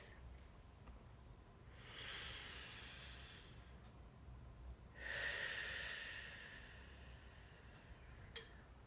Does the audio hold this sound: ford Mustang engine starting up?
no